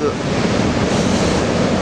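Ocean surf at Anglet crashes and roars continuously, mixed with gusty wind buffeting the microphone, a dense, loud wash of noise with no clear breaks.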